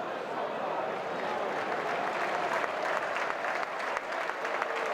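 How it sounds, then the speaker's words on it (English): A football stadium crowd at Millwall v Wrexham applauds steadily all around the ground as injured goalkeeper Danny Ward is withdrawn, a broad continuous clapping wash from a distance. "applause from all around the ground as Danny Ward is withdrawn"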